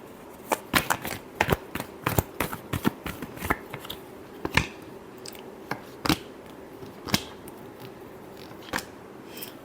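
Tarot cards being shuffled by hand, heard up close as a quick run of crisp riffling flicks and slaps that thin out toward the end, with no talking.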